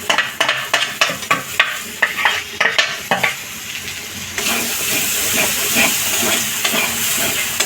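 Ground capsicum paste goes into a hot pan for a cashew mushroom curry. A spoon first clacks against the pan in quick strokes, then a loud hiss of frying rises and holds steady up close.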